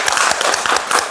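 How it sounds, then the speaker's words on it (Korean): A group of people at a monthly education discussion forum clapping together, a dense, steady burst of applause up close that fills the whole short moment. "그럼 다 같이 박수 한번 칠 거예요"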